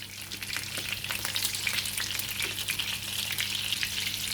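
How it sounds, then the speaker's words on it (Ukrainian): Meat cutlets fry in a pan with a continuous bubbling sizzle and scattered pops, moderately loud and close, under a low steady hum, with no voices. "буду їх обсмажувати з кожної сторони приблизно по 3 хвилинки"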